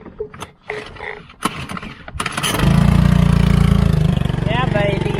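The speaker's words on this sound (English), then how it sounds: "we'll just put the new old Honda engine on our new old dinghy and we'll see if it wants to start." An old Honda outboard engine on a small dinghy is pull-started: brief rattling pulls and knocks give way to the engine catching and running in a loud steady buzzing idle, close by, with people talking over it.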